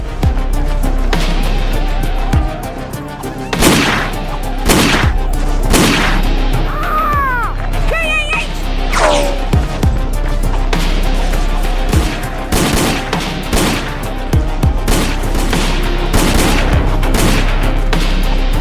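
Gunfire rattles through a shootout in a Zagor audio drama: loud, dense bursts of shots and booms repeat across the scene, with shouting and other noise mixed in underneath.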